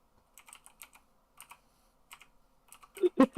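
Quick bursts of keystrokes clatter on a computer keyboard, coming in short irregular clusters with pauses between, close and crisp.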